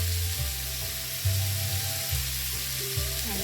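Ginger stir-fried in a hot pan for an opo squash dish, a loud, steady sizzle up close with the low scrape and clatter of stirring.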